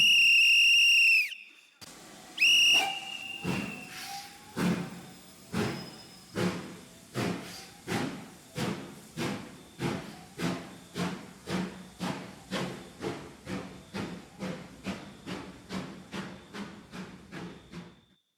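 A train pulls away in an audio-drama scene: a loud, steady whistle blast opens, followed by a near, rhythmic chuffing that starts slowly, then quickens into a steady run of evenly spaced beats.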